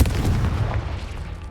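A Confringo fire spell blasting in Hogwarts Legacy, a deep booming burst at the very start that rolls on as a rumbling low tail for about a second and a half.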